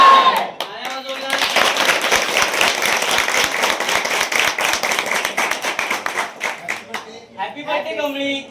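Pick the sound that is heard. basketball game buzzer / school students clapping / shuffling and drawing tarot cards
school students clapping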